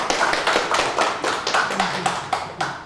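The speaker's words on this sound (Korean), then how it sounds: "큰 박수로 맞이해 주시기 바라겠습니다." Audience applause welcoming a professor onto the stage at a lecture on a Gangneung poet, a steady stream of many overlapping hand claps filling the room for about three seconds without speech.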